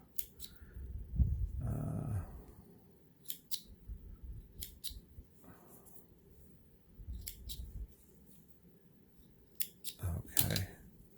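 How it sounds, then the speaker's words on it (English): Scissors snipping stray threads off a handmade purse, a few short, crisp cuts scattered between pauses, close and fairly quiet, with soft handling noises and some low voice in the background. "I'm going to cut a few of these stray threads off."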